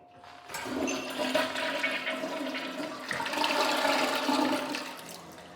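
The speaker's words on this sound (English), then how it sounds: "but let's flush it" A toilet flushes in a church bathroom, a loud close rush of water surging up suddenly and roaring steadily for several seconds before starting to ebb, with no talk.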